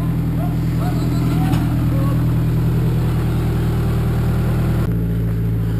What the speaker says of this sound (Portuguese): Bom, conseguimos fazer o trator passar na curva